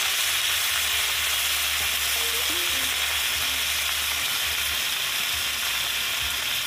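Tampayan sizzles steadily in a hot pan after soy sauce is added for a Filipino ginisa sauté, a continuous close frying hiss with faint stirring underneath.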